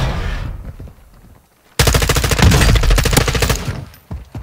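Rapid automatic gunfire in the video game Call of Duty Modern Warfare erupts after a quiet pause, a loud, close burst of repeated shots lasting about two seconds before tapering off, with a few scattered shots at the end.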